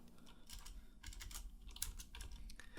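Quiet, rapid clicking of keys on a computer keyboard as someone types in a text editor, a steady patter of close taps with no talking.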